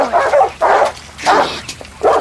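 Several dogs barking at close range during a tense standoff in a police drama, with four loud, rough bursts spread evenly across the stretch and short pauses between them.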